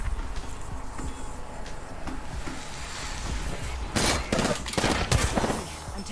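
Gunfire in the Apex Legends video game: scattered shots and short bursts ring out over game ambience, with a louder cluster of sharp blasts near the end, no talk.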